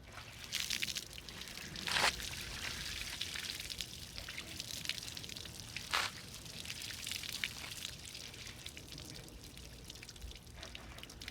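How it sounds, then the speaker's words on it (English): Water is poured over a polished Toyota Celica headlight to rinse it, a faint steady splash and trickle with a few brief louder spills. "I will go ahead and use the water and clean it up"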